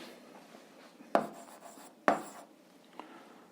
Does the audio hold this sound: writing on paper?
yes